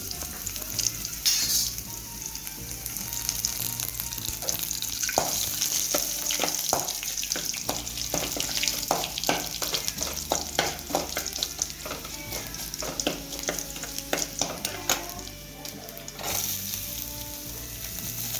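Onions sizzle steadily in a hot pan for a puri masala, with frequent scraping stirs and clinks of a spoon, close and fairly loud throughout.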